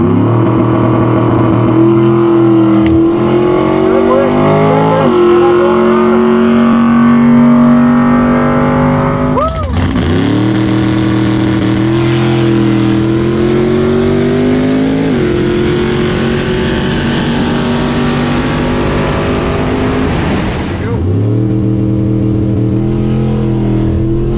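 Drag race cars, including a Tesla Model S, a Buick Grand National and a big-tire Vega, launching down a sticky strip: loud engines revving and rising in pitch through several pulls, each surge ending in a sharp shift.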